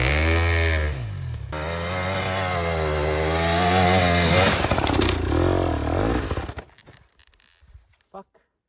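A motorcycle engine revs hard in deep snow, a loud, strained, buzzing drone that rises and falls in pitch with throttle changes before cutting off sharply into near quiet, with voices underneath.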